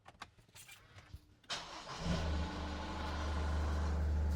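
An Isuzu D-MAX pickup truck engine fitted with a new stainless snorkel cranks briefly, catches and settles into a loud, rumbling idle, heard close after some quiet clicks and shuffling.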